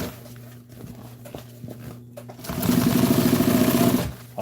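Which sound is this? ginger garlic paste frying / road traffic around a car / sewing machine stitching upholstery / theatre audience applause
sewing machine stitching upholstery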